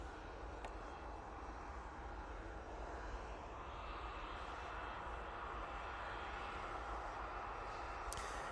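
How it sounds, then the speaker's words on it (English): An air tanker aircraft taxiing at Manchester Airport, a steady, continuous engine drone that holds at a constant level throughout without a break, with no talk over it. "air tanker is making a move towards us"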